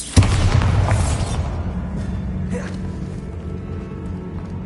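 A Bombarda spell goes off in Hogwarts Legacy with a sharp bang at the start, then a heavy rumbling boom that fades slowly into a low, lingering tail.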